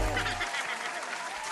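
A short burst of crowd applause plays as an inserted sound effect, dense clapping filling the moment, with a voice briefly speaking at the very start.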